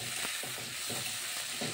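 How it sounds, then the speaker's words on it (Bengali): Onions fry in oil tempered with whole cumin and dried chillies after potatoes, a close, constant sizzle with rhythmic stirring scrapes every half second or so. "আর এখন এই পেঁয়াজটা ভাজা করে দিচ্ছি"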